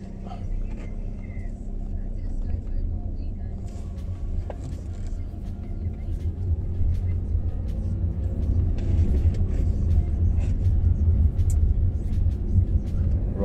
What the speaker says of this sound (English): Need to get used to this car.